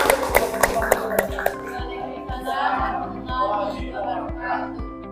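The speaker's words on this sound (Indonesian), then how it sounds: "Tepuk tangan untuk kelompok 5." Children in a classroom clap in a rhythmic beat for presenting group 5, the steady claps running throughout under children's chatter and voices.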